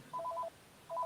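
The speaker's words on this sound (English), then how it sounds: "Sorry about the phone." A telephone chirps twice in quick warbling bursts separated by a short gap, moderately loud against a quiet room.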